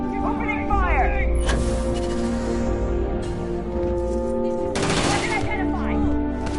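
Gunfire in the sci-fi game Starfield, with bursts of rapid shots around the second and fifth seconds over a constant engine-like hum and scattered game effects.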